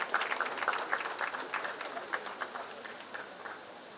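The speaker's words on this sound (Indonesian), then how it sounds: "Beri tepuk tangan yang meriah." Audience applause at a campus program launch during an event at an Islamic boarding school in Lasem, a dense, steady patter of many hands clapping that gradually thins and fades over a few seconds.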